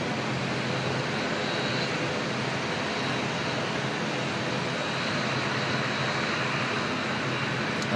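A jet airliner inbound from Taipei roars steadily at Auckland Airport, a broad unbroken engine rumble held at one loudness for several seconds, with no talk.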